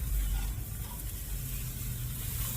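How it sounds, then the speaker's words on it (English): Butter melts and sizzles in a hot pan beside a reverse-seared ribeye steak, a steady, close, dense frying hiss with no break. "Let that butter melt."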